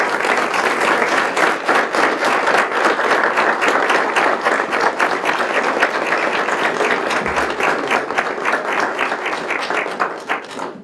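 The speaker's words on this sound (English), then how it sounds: "give him a round of applause" Sustained applause from a crowd at a Memorial Day breakfast, steady dense clapping filling the room for about ten seconds before tapering at the end.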